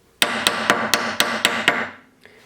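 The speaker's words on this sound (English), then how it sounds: "Now you want to hammer slightly more because it's okay if you have more than less." Hammer striking wire inlay set into steel, seven sharp metallic blows in a quick even rhythm with ringing decay between them, close and loud, then a faint final tap.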